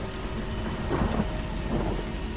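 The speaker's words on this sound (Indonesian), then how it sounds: "diiringi suara hujan yang sangat deras" Heavy rain pours steadily with a low rumble of thunder swelling in the middle, a dense, close wash of noise staged as a radio drama effect.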